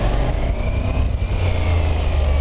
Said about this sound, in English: 850 Yamaha V-twin, you know? I mean, that is such a cool bike.